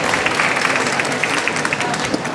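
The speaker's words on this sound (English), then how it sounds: "Please give them a warm applause." Warm applause from a conference audience as a young team takes the stage at a water pitch event, dense steady clapping close and loud throughout, with faint crowd voices mixed in.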